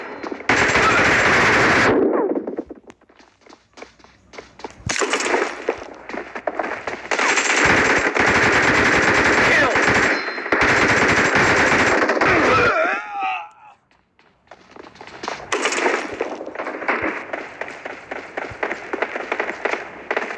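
Rapid automatic gunfire in a BGMI mobile 8v8 arena match, loud bursts repeating through most of the stretch with a short lull midway before firing resumes.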